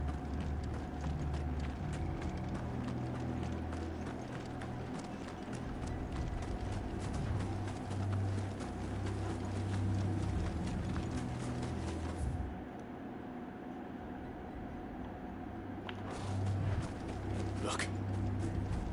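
Horses gallop in the video game Final Fantasy 16, a steady rhythmic clatter of hooves under low rumbling and mechanical rattling, with a brief lull midway before the pounding resumes.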